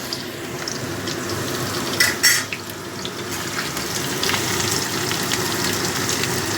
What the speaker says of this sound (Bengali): এবার পেঁয়াজ কুচিটা দিয়েও ভালো করে ভেজে নেব।